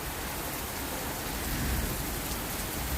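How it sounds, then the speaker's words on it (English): Steady heavy rain pours down as a storm rolls in, a dense continuous hiss of drops on surfaces with no talking. "Let it rain, let it rain."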